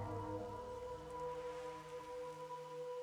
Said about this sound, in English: Gentle rain, protecting us.